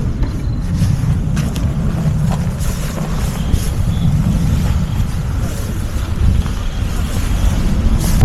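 A 125cc motorcycle ridden on an open road in France with a group of bikers, heard as a continuous engine drone buffeted by wind noise, loud and close throughout.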